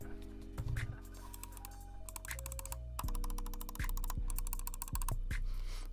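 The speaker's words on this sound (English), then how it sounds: "it just sounds like the right click is very mushy, doesn't feel that good. It's an inconsistent click feeling." Right clicks on a computer mouse with KL 8.0 switches: a quick series of small, faint, sharp clicks in an uneven rhythm over a steady electronic hum.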